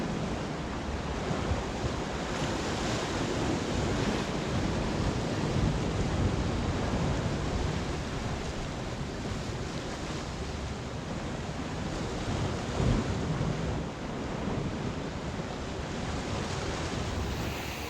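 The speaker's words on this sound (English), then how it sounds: "the swell's just too much. I'm only fishy. I've got up to about 40 gram lures, and they're not holding any sort of depth" Heavy ocean swell and surf roll in along the rocky coast of Crete, a continuous loud wash of breaking waves mixed with gusty wind buffeting the microphone, with no talking.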